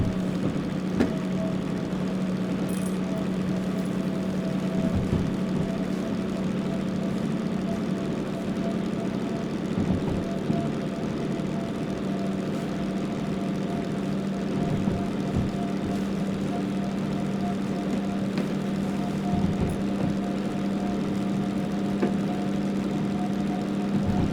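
Locomotive engine in the Derail Valley train simulator labours steadily uphill, a continuous loud low diesel drone with high revs and faint mechanical knocks, unchanging throughout with no talk.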